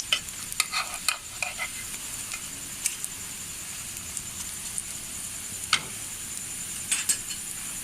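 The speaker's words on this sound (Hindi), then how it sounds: "ज़्यादा घी में फ्राई करने हैं खस्ता।" Bread slices for shahi tukray frying in plenty of ghee, a soft steady sizzle with scattered crackles and pops, plus occasional clinks of a utensil stirring in the pan.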